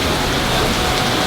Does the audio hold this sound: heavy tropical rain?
yes